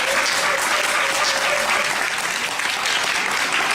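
An audience at a live broadcast claps loudly and continuously, a dense even wash of applause throughout.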